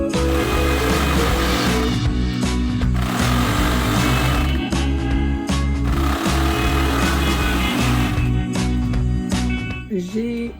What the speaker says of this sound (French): je vais coudre les fourches devant et dos à la surjeteuse